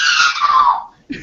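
A person lets out a short, loud high-pitched scream that falls away after under a second, followed by a brief soft sound.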